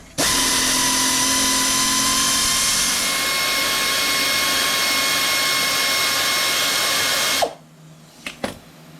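A power tool, likely an impact driver, runs as it removes the control arm nut on a T4 Eurovan, a loud, steady whine lasting about seven seconds before stopping abruptly, followed by a few faint clicks and clinks.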